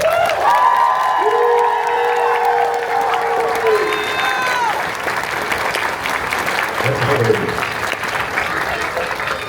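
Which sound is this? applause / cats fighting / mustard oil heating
applause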